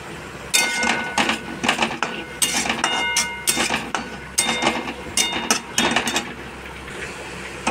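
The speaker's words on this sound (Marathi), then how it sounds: "आता आपण खोबरं घालून घेऊ।" Coconut and onion roasting in a pan for a chana dal curry, with repeated metallic scraping and clinking of a utensil against the pan in irregular bursts over a steady background hiss.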